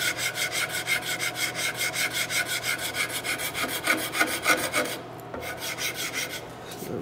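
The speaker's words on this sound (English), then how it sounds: "Now this rasp was a good quality rasp, but it's starting to go a little dull" A slightly dull rasp files the wooden stock of a colonial kit, nearing brass fittings, in a fast rhythmic series of close, scratchy back-and-forth strokes that continue throughout with only a brief break, with no talking.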